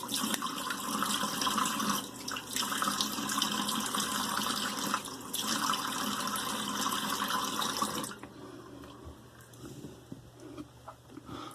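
Water from a tap runs steadily over a hair shaper razor with its guard removed for about eight seconds, loud and close, then shuts off, leaving faint drips and small handling sounds.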